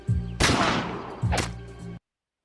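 A gunshot fired at a ballistic target of gel with cloth over it on an outdoor range comes as sharp, loud blasts with a ringing tail, two bursts in quick succession, then silence.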